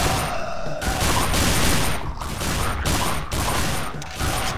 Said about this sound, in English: I'm just throwing way too many rounds at them.